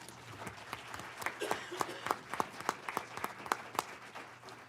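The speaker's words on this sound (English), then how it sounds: "Give yourselves a big round of applause." Applause after a unanimous vote at a Douglas County commissioners' business meeting, a small group clapping with distinct, uneven individual claps, fairly faint and rising briefly before tapering off.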